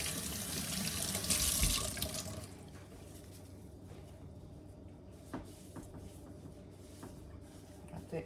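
Tap water runs into a sink while soap is rinsed off a reborn doll, a loud rushing splash for about two seconds, then quieter trickling and occasional soft knocks.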